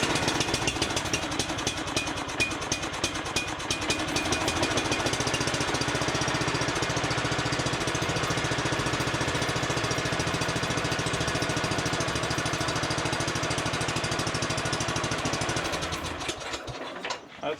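A Toro zero-turn mower engine fires and runs loud and continuous with a rough, knocking mid-pitched rumble, then cuts off near the end.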